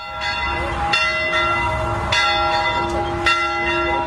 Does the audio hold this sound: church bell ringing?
yes